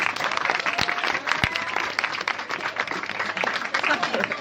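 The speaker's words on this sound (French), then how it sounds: "on va les applaudir bien fort" Audience applause welcoming a team for the final match of a televised quiz show, dense clapping with a few sharp hand claps standing out, voices mixed in.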